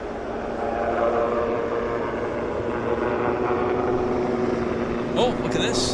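An Aeromexico jet airliner rumbles at Vancouver International Airport with a steady, moderately loud engine drone from some distance and a brief higher whine near the end, while a voice talks over it.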